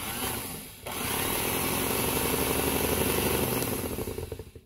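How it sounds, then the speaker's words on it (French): An electric mixer blending ice cream ingredients runs with a loud, steady whir, starting after a short lower hum, holding constant for several seconds, then tapering off near the end. "on va commencer à mixer"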